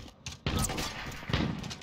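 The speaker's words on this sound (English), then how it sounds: "I heard this gunshot behind me." A couple of sharp, booming gunshots in Call of Duty: Modern Warfare ring out close by, the second following about a second after the first, with a low rumbling background.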